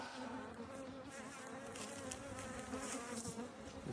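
Honey bees buzz steadily at an open hive during honey harvest in a farm apiary, a dense close hum that holds even and unbroken throughout.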